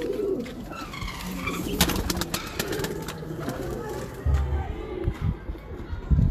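Breeder pigeons coo in low, rolling calls under people talking nearby, with crowd murmur and occasional heavier thumps of handling throughout.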